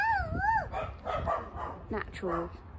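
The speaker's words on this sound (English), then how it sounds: "that's our neighbour's dog." A neighbour's dog barks and yips at a distance with whining, rising cries, heard intermittently beneath someone talking indoors.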